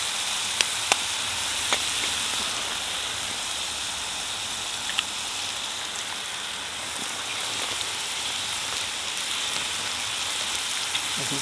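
An egg fries in a pan over a firebox outdoors in Nercwys Woods, North Wales, giving a steady, close, continuous sizzle with faint crackling pops and no talk.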